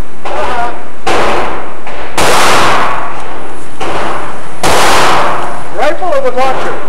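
Several loud gunshots fired at a close-range target about five yards away outdoors, with four or five sharp blasts spaced roughly a second apart, each decaying quickly, and a burst of chatter-like sound near the end.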